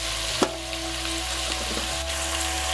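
Vegetables lightly salted and stirred as they fry in a pan for a thin, bachelor-style khichuri, giving a steady close sizzle with a sharp utensil scrape near the start and soft stirring clinks.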